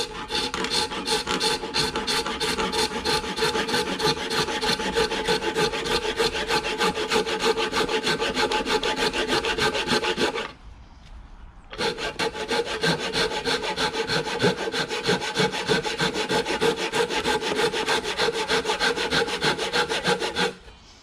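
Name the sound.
hand saw resawing wooden boards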